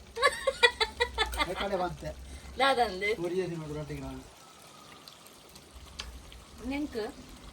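Water poured during the preparation of a Sunday special lunch, a soft splashing, rushing pour that follows a stretch of talking and continues quietly on its own, with a voice briefly returning at the end.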